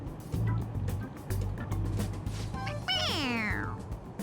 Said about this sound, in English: It's a stuffed animal. Yeah, it's just a toy. It meows when you press on its head.